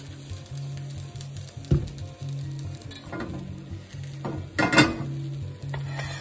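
Rice browning in olive oil in a saucepan, with a light sizzle under several sharp clacks and scrapes of a spoon stirring against the pot, loudest near the end.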